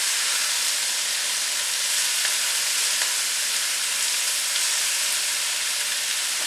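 Peppers and onions sautéing in olive oil in a pan for piperade, a steady, even sizzle that runs close and loud from start to finish, with faint crackles and no talking.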